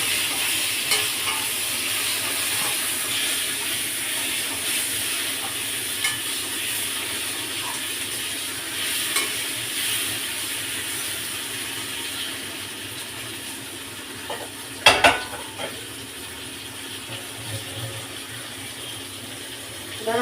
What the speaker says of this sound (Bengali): দিয়ে আমি এবার একটু নাড়াচাড়া করছি।